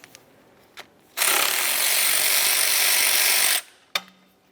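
A ratchet or power tool loosens an E12 bolt on the alternator bracket of a 2004–2010 BMW X3, giving one sustained, loud whirring burst of about two and a half seconds, framed by a few faint clicks and knocks.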